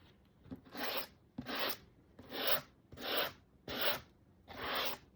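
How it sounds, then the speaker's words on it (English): Sanding block rubbed over a wooden pallet sign in six distinct rhythmic strokes, each a close, raspy scraping burst separated by short pauses. "sanding block."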